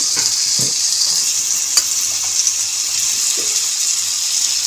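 Eggplant pieces sautéing in a spice mixture for a fish-head chhyachra, giving a steady bright sizzle throughout with a few soft stirring knocks, no talk.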